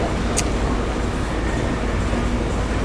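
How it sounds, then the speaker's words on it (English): A Mugunghwa train rumbles at a Suwon Station platform, a broad continuous roar of wheels and engine noise, steady and fairly loud, with a brief high squeak early on. "Mugunghwa train looks like it's just pulling in, or is it pulling out?"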